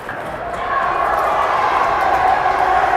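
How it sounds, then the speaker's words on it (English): Middle-school fans cheer at a youth hockey game in Minnesota, a steady roar of young voices that swells and holds, filling the rink. "Those fans you hear cheering are actually, I think, Edina middle schoolers"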